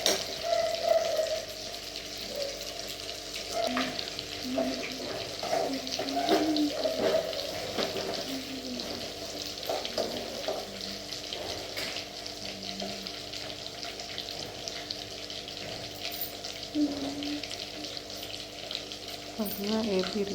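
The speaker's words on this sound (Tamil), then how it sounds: "இப்போ 65 ரெடி பண்ணி எடுத்து பொரிச்சு எடுக்க போகிறோம்." Marinated chicken 65 pieces deep-fry in hot oil with a steady, continuous sizzle and crackle that lasts throughout, with occasional louder spits and bubbling, close and fairly even in level.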